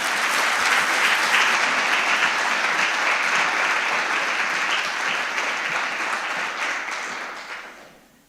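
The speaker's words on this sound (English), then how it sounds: "I would really ask you to give a very warm round of applause to Denise" Warm, dense applause from a university partnership celebration audience for Denise, sustained evenly for about seven seconds before tapering off.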